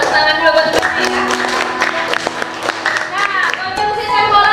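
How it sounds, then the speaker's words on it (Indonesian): A classroom of students claps for their classmates, a scatter of hand claps mixed with chatter and voices from the class. "Tepuk tangan dulu buat teman-teman ya."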